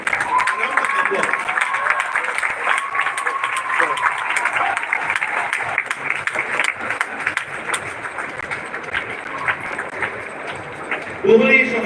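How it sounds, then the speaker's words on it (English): An audience at a school Parents Day award ceremony gives steady, dense applause that lasts throughout, with a voice speaking over the clapping near the end. "Round of applause."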